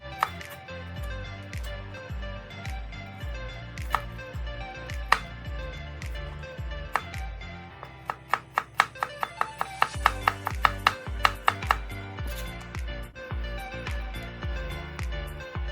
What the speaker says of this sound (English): I'm gonna get it as finely chopped as possible.